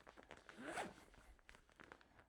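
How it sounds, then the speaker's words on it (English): A packing cube zips shut in one quick, close, soft pull, with light rustling around it. "zip it up in there."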